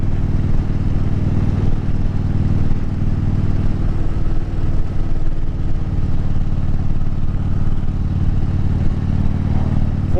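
A 2010 Harley-Davidson Street Glide Ultra cruising in fourth gear, its engine giving a loud, steady, close low rumble with constant road and wind noise and no break or voice.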